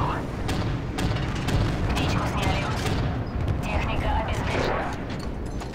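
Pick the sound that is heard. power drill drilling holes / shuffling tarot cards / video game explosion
video game explosion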